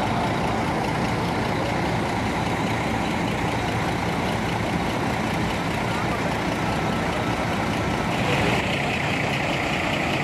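A tronton heavy truck's engine rumbles steadily at close range as the truck moves off, a loud, dense drone throughout with voices audible beneath it.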